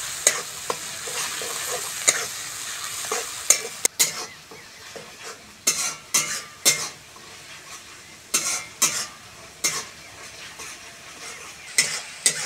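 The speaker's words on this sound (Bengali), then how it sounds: "লবণ, লঙ্কার গুঁড়ো, মশলাটা ভালো করে ভেজে নেব" Spices with salt and chilli powder frying in a pan with a low steady sizzle, while a utensil stirs and scrapes against the metal in irregular bursts of clinks and scrapes.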